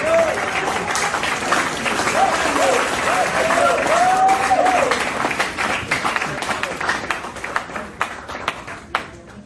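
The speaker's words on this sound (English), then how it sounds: "The more you clap, the more I bring it out." Seminar audience at a Lagos trading session clapping loudly, with continuous applause and cheering voices that gradually thin into scattered individual claps toward the end.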